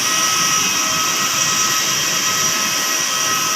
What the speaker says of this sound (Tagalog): Dalawang aeroplano.